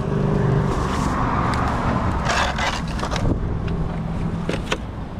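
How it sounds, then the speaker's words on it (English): Road traffic rumbles nearby in Hounslow, cars passing with engine drone and tyre noise, plus scraping and clattering, steady and fairly loud for about five seconds without speech. "Caused a lot of traffic noise today."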